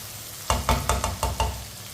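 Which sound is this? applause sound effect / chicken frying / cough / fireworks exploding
chicken frying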